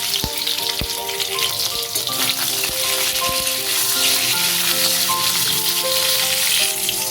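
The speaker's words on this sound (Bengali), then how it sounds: "নুন দিয়ে পটলটা ভাজা হয়ে এলে দিয়ে দিচ্ছি হলুদ" Whole pointed gourds, lightly peeled and slit, sizzle steadily in a pan of hot oil with salt, a continuous close frying hiss with occasional clinks of a utensil against the pan.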